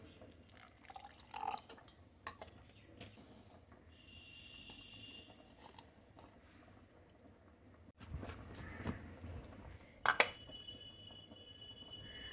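Water is poured onto dry-ground spices for a lunch dish, giving faint, scattered drips and small splashes with a brief louder spill toward the end, in an otherwise quiet kitchen.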